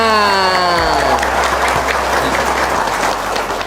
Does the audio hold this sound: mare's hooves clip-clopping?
no